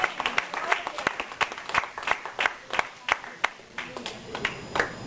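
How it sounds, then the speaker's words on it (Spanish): A church congregation applauding in praise during a Sunday service, irregular bursts of clapping with sharp transients over about five seconds. "Yo le daría un aplauso al Señor"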